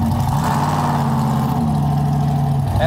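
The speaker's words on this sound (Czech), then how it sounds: "Já jsem myslel, že mi auto řve" A 1979 Chevrolet Corvette C3 with a small-block engine idles with a steady, low, rumbling tone, heard close and alone for a few seconds.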